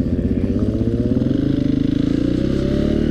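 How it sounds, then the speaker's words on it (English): Dense, steady engine idle from a KTM 450 SMR supermoto motorcycle fitted with a KTM 540 RFS engine, a loud close-up thumping single with a lumpy, pulsing rhythm, heard alone with no talk. "This is a KTM 450 SMR that has been upgraded with a KTM 540 RFS motor."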